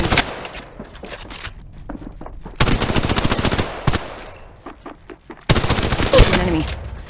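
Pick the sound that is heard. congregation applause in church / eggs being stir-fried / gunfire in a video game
gunfire in a video game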